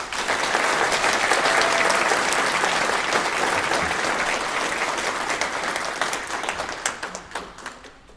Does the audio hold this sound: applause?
yes